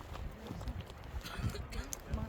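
A horse's hooves clip-clop in an irregular rhythm on a horseback ride in Kazakhstan. The hoofbeats sound close and soft, and people talk over them.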